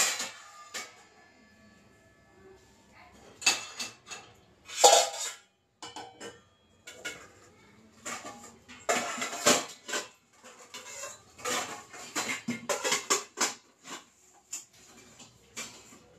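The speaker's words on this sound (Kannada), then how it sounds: "ಪಾತ್ರೆಗಳೆಲ್ಲ ಇತ್ತು ಅದೆಲ್ಲನೂ ಜೋಡಿಸ್ಕೊಳ್ತಿದ್ದೀನಿ" Steel and iron utensils, pots and vessels clink and clatter as they are stacked away in a home kitchen after breakfast, with irregular close metallic knocks and scrapes separated by brief quiet gaps.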